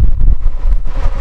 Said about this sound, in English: pretty windy, so I don't know what the audio will turn out like